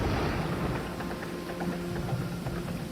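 A heavy downpour pours steadily through thick forest foliage, with low thunder rumbling underneath, a dense continuous wash of rain with no voices.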